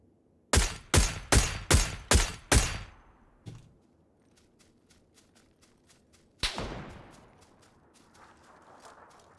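Gunfire in the battle royale game PUBG on the Erangel map: a rapid burst of six loud, sharp shots, then a single shot, scattered faint distant cracks, and another heavy report with a fading echo.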